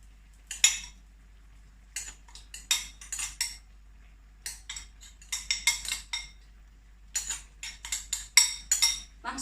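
Utensils stir and clink against a dish while an egg is mixed into pasta, a series of light scrapes and taps in uneven bursts, close and fairly quiet.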